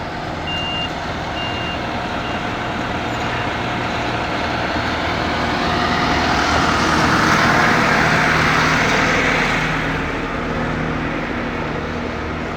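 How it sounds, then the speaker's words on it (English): Concrete mixer and pump trucks pouring garden house footings, a loud steady diesel rumble with a truck's reversing beeps sounding near the start, the engine swelling slightly midway. "one truck mixes and then he pours it into the other truck and then that other truck pumps it all the way down the back"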